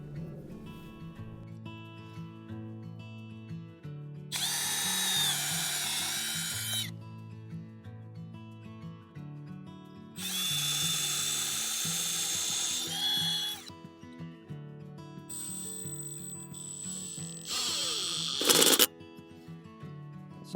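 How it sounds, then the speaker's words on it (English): Two long bursts of a power drill pre-drilling holes for a mailbox whir up close, followed by shorter buzzing and ratcheting, while music plays quietly in the background. "So let's pre-drill a couple holes for that."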